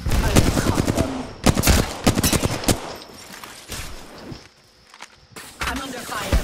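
Bursts of rapid automatic gunfire and single shots crack loudly in the Apex Legends battle royale, broken by short pauses and footsteps, with a voice speaking over parts of the exchange.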